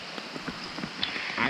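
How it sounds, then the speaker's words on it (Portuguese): Rain patters steadily through a flooded forest during a fishing trip, soft scattered drops against a faint wash of background noise, with a few brighter splashes and no talk. "Aqui tá chovendo."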